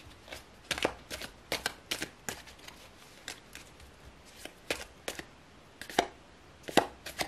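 Tarot cards being shuffled produce a series of quick, crisp riffling bursts and snaps, irregularly spaced and close, with quiet gaps between them.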